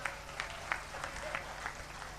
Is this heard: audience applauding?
yes